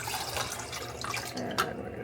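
One cup of water poured from a measuring cup into a bowl of cake mix, a short quiet splashing trickle close to the microphone ending in a brief slosh.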